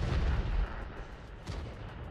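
Tank cannons fire in a World of Tanks-style match, with a heavy booming shot up front followed by a fainter distant blast and rumbling decay.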